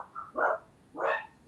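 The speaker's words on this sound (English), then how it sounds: "Someone's barking is now muted." Two loud, close yips from a dog, evenly spaced about half a second apart, interrupt an online township committee meeting.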